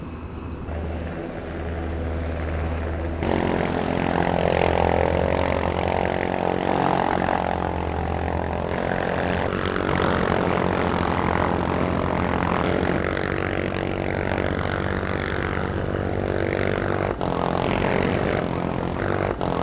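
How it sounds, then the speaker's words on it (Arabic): Black Hawk military helicopters pass during a live-fire military display, giving a loud continuous roar of engine and rotor noise that stays steady throughout with no voices. "تقوم الآن طائرات البلاك هوك من على يمين المنصة بالرماية ومشاقلة قوات العدو"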